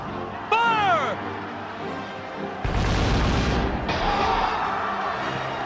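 An artillery barrage fires in the video game Kessen, a heavy sustained booming rumble that swells and rolls on for several seconds after a short whooshing sweep, loud and dense, with a voice faintly beneath it.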